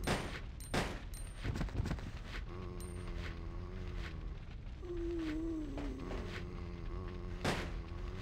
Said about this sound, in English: Why are you shooting at both directions, Claire? That's a waste of bullets.